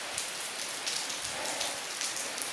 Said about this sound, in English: Started raining harder.